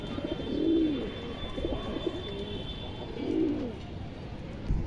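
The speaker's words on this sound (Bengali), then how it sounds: "এই দেখেন কবুতরটা দেখেন খুবই সুন্দর একটা কবুতর" An Indian high-flyer pigeon cooing close by, two drawn-out throaty coos a few seconds apart over quiet background hum.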